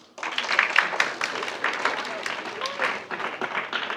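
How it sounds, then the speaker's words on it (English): A classroom audience claps to vote in a lie-guessing game, a burst of scattered handclaps that swells and ebbs over several seconds while a voice talks over it. "this is the real clapping"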